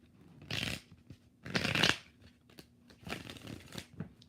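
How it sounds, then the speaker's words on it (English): Tarot cards shuffled in several quick riffling bursts with short pauses between them, close and fairly soft, with no talking. "One more shuffle."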